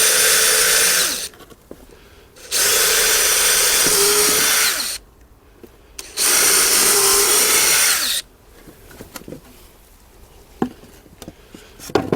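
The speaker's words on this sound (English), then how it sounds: "I need to drill some pilot holes through so that I can put the screws through into the shorter boards" Cordless power drill boring pilot holes through wooden planks for a no-dig raised garden bed, three loud sustained bursts of whirring motor separated by pauses with light wood handling and knocks, close to the mic.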